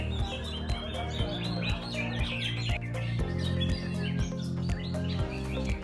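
Songbirds at a bird-singing contest held in Bangkalan, Madura for Indonesian Independence Day chirp busily in dense, overlapping calls over a loud, steady low droning background throughout.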